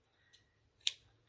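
Scissors snip twice in quick succession, crisp and close, in a quiet room while trimming paper craft pieces for a nature journal.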